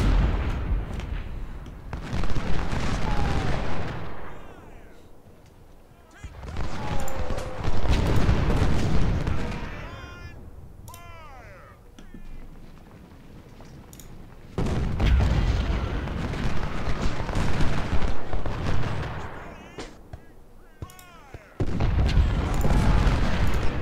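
Rifle gunfire and artillery booms in the Civil War strategy game Ultimate General, coming in heavy rolling bursts of rumbling volleys separated by quieter stretches, with faint background voices at times.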